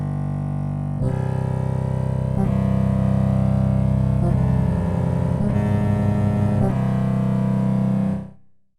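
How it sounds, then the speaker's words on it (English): Baritone bottle tones from a whimsical virtual instrument library built on acoustic material, playing a run of loud, sustained low pitched notes that change every second or so before fading out at the end, with no voices. "Here is the baritone bottle."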